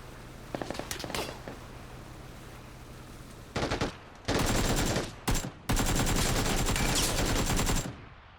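Bursts of automatic gunfire from PUBG on Xbox Series X, a few sharp shots early, then several long sustained rattling volleys with brief gaps between them, loud and close.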